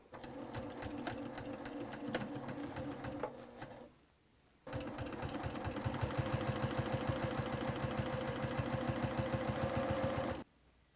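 A sewing machine top stitching fabric for a DIY advent calendar hums in fast, even needle strokes, running for about four seconds, pausing briefly, then running steadily again before stopping.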